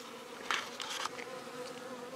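Honeybees buzz around an open backyard beehive on a warm day, a steady close drone with a few louder passes as individual bees fly near.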